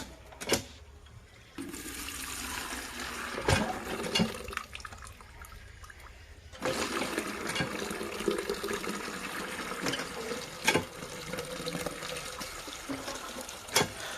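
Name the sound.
water pouring from repaired hand pump tubewell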